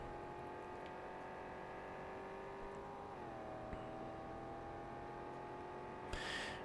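Car driving in Cyberpunk 2077 on PlayStation 4, a steady, quiet engine drone that shifts pitch partway through, then a short burst of brighter noise near the end.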